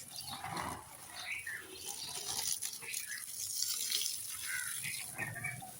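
A gentle stream of tap water runs over fresh coriander being rinsed, trickling and splashing steadily at close range with small uneven spatters.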